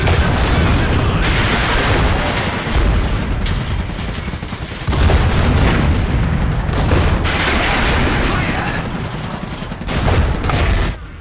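Polonia PZM-13 Moxy artillery mech in the Iron Harvest game firing long-range high-damage shells amid a dense battle, loud continuous volleys of booms and gunfire with repeated heavy blasts throughout.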